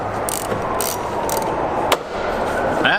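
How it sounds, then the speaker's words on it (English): A hand ratchet clicks while removing the final screw from the secondary air injection pump of a Porsche 911, giving rapid close metallic ratcheting in repeated short bursts over a steady workshop background. "let me take this final screw off and the electrical connection"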